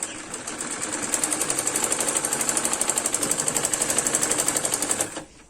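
A sewing machine runs fast stitching a belt on a patiala salwar, a close, rapid rhythmic chatter of needle strokes at steady speed that stops abruptly near the end.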